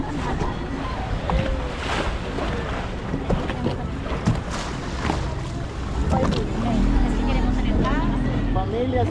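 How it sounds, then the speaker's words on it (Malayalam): A small boat carries passengers to a beach near hidden islands off Puerto Vallarta, Mexico. Its engine hum and water wash run steadily, with wind buffeting the microphone and a deeper motor drone rising near the end. Voices are faintly audible. "നമ്മൾ ചെറിയ ബോട്ടിൽ നമ്മളെ കയറ്റി ആ ബീച്ചിൽ കൊണ്ടിറക്കും."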